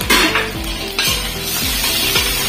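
Ginger, garlic and green chilli frying in a pan for Hyderabadi mutton dalcha: a steady loud sizzle with repeated scraping and stirring knocks of a spoon against the pan, no voices.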